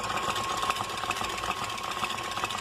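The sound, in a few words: KitchenAid stand mixer beating eggs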